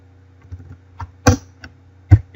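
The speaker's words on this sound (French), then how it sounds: "je vais taper directement" Keystrokes on a computer keyboard entering a database query, an irregular run of about half a dozen clicks and taps at close range over a faint steady hum, with no talking.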